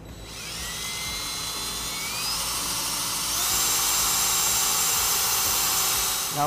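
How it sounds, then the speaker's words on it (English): A power drill boring a pilot hole for a front-mount trailer hitch on a 2016 Ram 1500 pickup, a loud, steady high-pitched whine that rises slightly in pitch midway and runs continuously for several seconds before stopping. "Now we have our pilot hole drilled."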